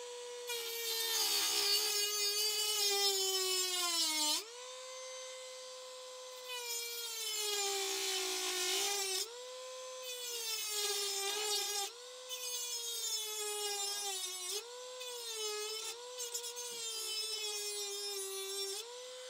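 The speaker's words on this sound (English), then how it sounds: "Very soft metal, I just cut it with the Dremel." A Dremel rotary tool cuts through the soft metal of a bus window regulator, giving a close, loud, high-pitched whine in several long bursts whose pitch sags under load, with short pauses between passes and no talking.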